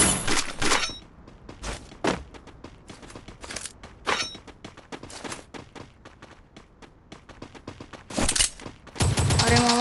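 Gunfire in a Free Fire battle royale ranked match: loud bursts of automatic shots at the start, scattered shots through the middle, and a dense closing volley, with no talk.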